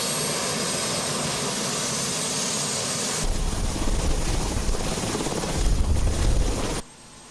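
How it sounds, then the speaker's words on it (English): A helicopter departs the White House lawn with the former first couple aboard, giving a loud, steady roar of engine and rotor noise that swells midway and then cuts off abruptly near the end. "outgoing President Barack Obama and Michelle bade farewell to the White House and boarded a helicopter"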